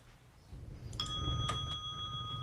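A meditation bell rings once with a clear, sustained metallic tone, followed by a lighter second strike, close and ringing on over a low background hum.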